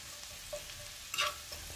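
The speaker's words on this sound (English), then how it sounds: "let that cook for about a minute. Cook off some of that onion and garlic" Onion and garlic frying in a pan for a salmon garlic butter cream sauce, giving a quiet steady sizzle with a few soft stirring scrapes and a brief louder hiss near the middle.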